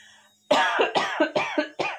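A close, harsh cough from a woman who is ill repeats four times in quick succession after a brief quiet moment.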